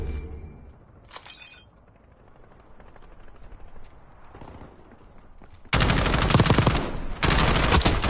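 Gunfire from a new weapon in Call of Duty Warzone, set in Verdansk: after a quiet stretch of faint ticking, sustained loud automatic bursts erupt in the final seconds, with a brief sharp crack earlier on.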